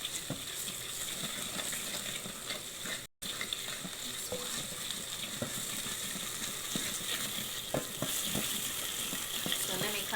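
Tomatoes cooking in a pan for a liver dish, a close, steady sizzle and bubbling with occasional clicks and light knocks, broken by one brief gap.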